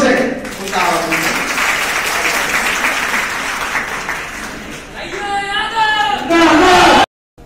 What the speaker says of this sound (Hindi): एक बार जोरदार तालियों से उनका आवाज दीजिए